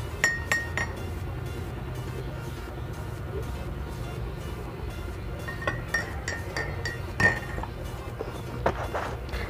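Glass cups, dishes and cutlery clink and tap in a quiet kitchen while coffee is added to a cup, with a few sharp chinks standing out over a low steady background hum.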